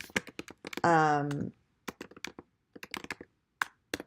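Hashtags typed on a computer keyboard, crisp irregular key clicks in quick bursts, close and fairly quiet, with a short tonal sound partway through.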